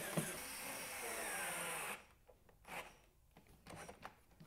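Cordless power screwdriver driving screws into the handle of a SKIL snowblower, a loud close whir lasting about two seconds that stops abruptly, followed by faint handling knocks and scrapes.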